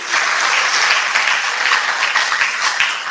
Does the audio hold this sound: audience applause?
yes